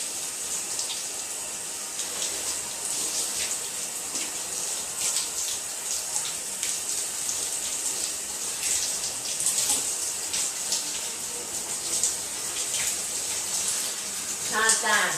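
A shower runs with a steady close hiss of spraying water, and low voices are heard intermittently beneath it.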